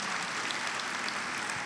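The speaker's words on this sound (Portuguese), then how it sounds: "Aplauda ele bem forte" A church congregation applauds at an Easter service, a soft, even spread of many hands clapping, fairly distant and steady throughout.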